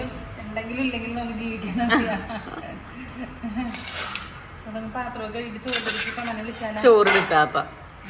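Dishes and steel utensils clink and scrape as rice is served at a petrol pump at night, with irregular metallic knocks close by under ongoing conversation and a short laugh.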